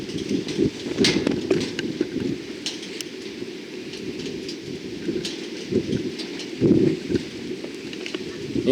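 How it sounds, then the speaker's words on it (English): Rain beginning to fall outdoors during a March wind storm in Beatty, Nevada, a steady wash of patter and gusty noise with a few louder bursts, no talk. "Oh, it's starting to rain."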